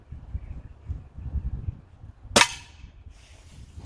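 A B3 air gun fires a single sharp, loud pellet shot at a block of clay, a sudden crack rising out of a low, quiet rumble and trailing off into a faint hiss.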